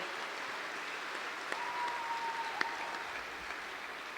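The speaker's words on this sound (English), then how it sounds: "Let's have one more big round of applause for these outstanding animals and the juniors that presented them here today." Audience applause at a dairy cattle show ceremony honouring champion animals and junior exhibitors, a steady, fairly quiet wash of clapping from a large arena crowd with a faint tone and a couple of sharp clicks.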